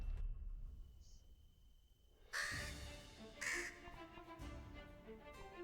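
A crow caws in the video game For The King 2: after a quiet, low start, two loud, harsh calls sound up close, followed by fainter rustling game sounds.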